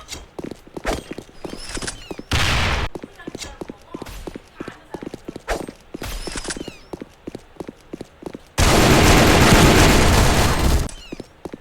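AK47 rifle fire in a video game, in rapid crackling bursts spread across the stretch, ending in one long sustained loud volley amid footsteps and game noise.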